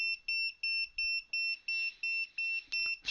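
An AIcevoos gas detector sounds its alarm, a high electronic beep repeating about three times a second in an even pulsing pattern, loud and close with nothing else around it.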